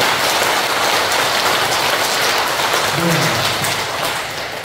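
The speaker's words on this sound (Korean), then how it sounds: "박수 한번 쳐보세요. 박수." Audience members at a community welfare council training session clap their hands together in a dense, steady roar of applause that sounds like heavy rain, continuous and fairly loud throughout.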